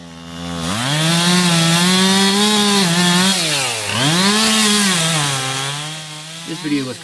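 Power saws cutting through a basement structure during a firefighter rescue through a basement window, a loud close engine whine rising and falling in pitch as the blade bites and eases, continuous for several seconds.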